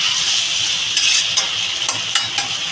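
Fish with ridge gourd and potato fries in a Bengali curry, a bright continuous sizzle broken by several sharp scrapes of a spatula stirring the pan.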